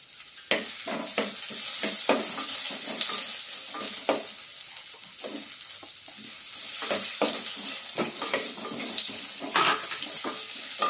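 Curry leaves tossed into hot oil in a pan while making spinach rice, crackling and sizzling steadily with sharp spitting pops scattered throughout, close and fairly loud, with no talking.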